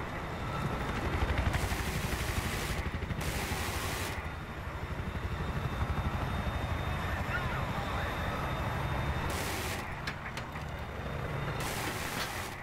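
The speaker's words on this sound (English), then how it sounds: "Just the attack helicopter? to our right." Attack helicopter rotor and engine drone in the War Thunder video game, a steady continuous roar with bursts of broadband noise over it.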